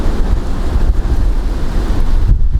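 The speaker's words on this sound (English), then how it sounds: "That wind's holding the float back, it's that strong there." Strong wind buffeting the microphone beside a river, a constant low rumbling roar with gusty fluctuations, loud and close, no talk.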